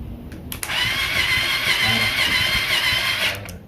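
The electric starter of a Kawasaki Z1000 replica motorcycle engine cranks with a loud, close, continuous whirring grind for about three seconds, preceded and followed by brief clicks, without the engine catching.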